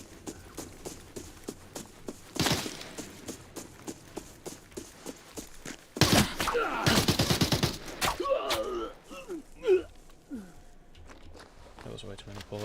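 Gunfire in the Arena Breakout shooter game: scattered close shots and footstep-like ticks, then a dense rapid burst of automatic fire that trails into clattering, broken noise.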